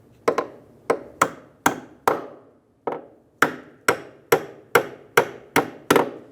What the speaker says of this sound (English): we're just going to use a hammer and hit on the bracket